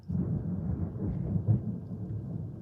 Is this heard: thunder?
yes